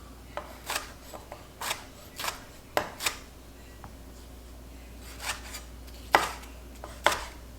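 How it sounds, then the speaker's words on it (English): Onion and garlic being chopped with a knife on a board, a series of crisp, close cutting strokes in uneven bursts separated by short pauses. "right now, Amy, she's cutting some onion and garlic"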